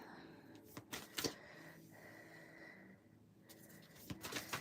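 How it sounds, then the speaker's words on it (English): Tarot cards are shuffled up close in a quiet room, with several crisp riffling and slapping bursts separated by pauses, and faint background hum. "And this is just your pre-shuffle."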